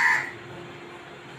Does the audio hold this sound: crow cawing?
yes